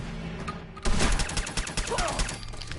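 Gunfire in Fallout 4: a loud burst of rapid overlapping shots starts suddenly and rattles on in a quick irregular rhythm, mixed with impact noise and faint background voices.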